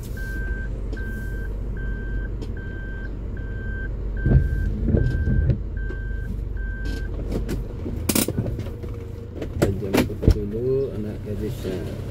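A car reverses into a parking spot near a school on a rainy morning. A steady series of evenly spaced reversing beeps runs for about seven seconds over a constant engine and traffic rumble, with birds cooing and scattered knocks afterward.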